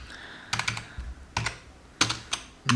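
Clacking on a computer keyboard, several quick bursts of close keystrokes with short pauses between them, alone over a faint background hum.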